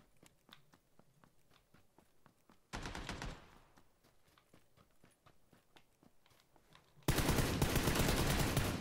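Suppressed gunfire from a VSS sniper rifle in the PUBG video game: rapid muffled shots in short bursts, the last long burst loud and sustained, between quieter footsteps and clicks.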